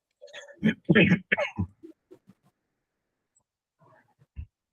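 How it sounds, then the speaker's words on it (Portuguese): A person clears their throat a few times with short rough bursts, followed by faint scattered sounds and one brief low thump, heard close in a quiet indoor room. "toma um pouco de água que você está pigarreando demais"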